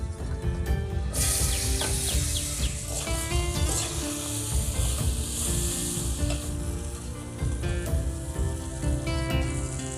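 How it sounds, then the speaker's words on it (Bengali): Koi fish pieces frying in hot oil, a steady loud sizzle and crackle that runs through the whole stretch with small spits and pops, close up and with no voices. "বাকি মাছগুলোকেও ভেজে নেব।"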